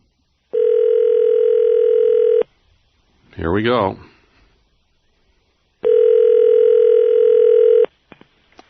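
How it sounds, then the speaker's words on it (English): Telephone line tone sounds in two steady, loud two-second bursts separated by a pause while a radio host phones a contest winner, with someone speaking briefly between the tones. "we're going to phone Tanya right now"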